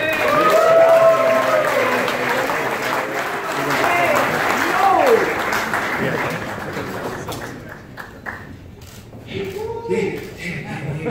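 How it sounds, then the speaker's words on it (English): Audience applause at a boxing press conference for a Matchroom and DAZN announcement, loud and sustained for about seven seconds before tapering off, with voices and crowd murmur mixed in and talk resuming near the end. "I want a massive round of applause for Boo Boo Demetrius Andrade."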